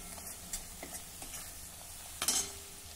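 Onion and kharda sautéing with a pinch of turmeric in a pan, a soft steady sizzle broken by light scraping stirs and a louder clack of the spoon near the end, with no talking.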